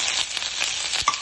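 Tomatoes dropped into a pan of onion and garlic for sambar give a short, steady sizzle with a soft scrape or clack near the end.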